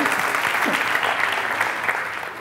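Audience applause at a live performance, a steady dense wash of clapping from a crowd that holds at an even level throughout, fading slightly toward the end.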